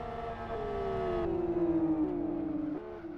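A SuperGT race car with a dragging clutch, its engine droning in a sustained, slowly falling tone with a few small pitch steps, loud and continuous, with no voices.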